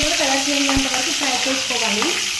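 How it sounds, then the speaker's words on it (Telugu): Thin-sliced onion pieces sizzling in a pan for an Indian ivy gourd fry, a constant close hiss with the scrape of a spoon stirring through it. "ఉల్లిపాయలు కూడా కలర్ వరకు ఫ్రై చేసుకోవాలి"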